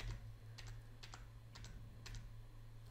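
Arrow keys on a computer keyboard tapped during a Raspberry Pi RetroPie setup, four quiet clusters of quick double clicks spaced about half a second apart over a steady low electrical hum.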